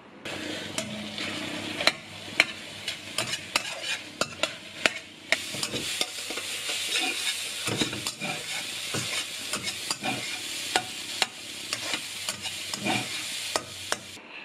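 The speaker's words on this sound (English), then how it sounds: "Put the rice in and stir fry." Rice stir-fried in a pan, rapid repeated spatula clacks and scrapes over a steady sizzle, close and busy, with no voices.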